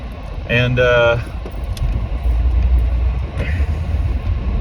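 A car drives along with a steady low road rumble and engine drone throughout, a brief harmonic whine or horn-like tone near the start, and a faint clink later on.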